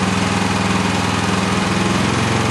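A Jansen MB 500 engine idles steadily right after its first start following assembly, a loud, close, continuous rumble with an even mechanical pulse and no talking.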